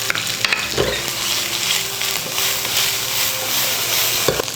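Tomatoes and chilies hit a hot pan already holding garlic, shallots, ginger and kencur, giving a steady loud sizzle and hiss with occasional stirring scrapes, no talk.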